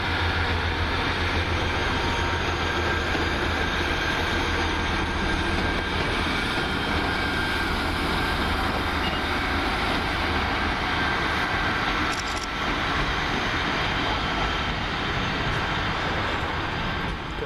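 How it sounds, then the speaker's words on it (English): The 1403 First Great Western service to Avonmouth departs Bristol Temple Meads station, a steady, moderately distant low rumble and hum that holds evenly throughout without talk. "Now leaving behind the building there should be the 1403 first Great Western service to Avonmouth."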